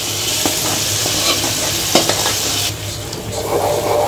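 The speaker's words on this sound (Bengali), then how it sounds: "একটু কষিয়ে নিই।" Masala for vegetarian mung dal sautéing in a pan: a steady close sizzle with repeated scraping stirs of a spoon against the metal, continuous throughout with no talking.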